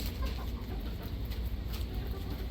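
A rooster clucks close by while eating roti, soft repeated clucks over dense, steady low-end rustle and background noise.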